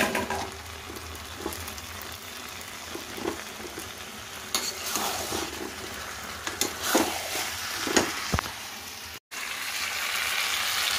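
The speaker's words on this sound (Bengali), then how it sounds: "এবার চিকেনটা পুরোটা দিয়ে দেবো। আলুটাও দিয়ে দেবো, দিয়ে একবারে ভালো করে কষাবো।" Chicken and potatoes being stir-fried kosha-style in a pan for a Bengali chicken curry: steady, close sizzling with repeated spatula scrapes and stirs throughout, no talking.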